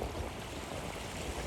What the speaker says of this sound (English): And now we can clearly see the waves coming in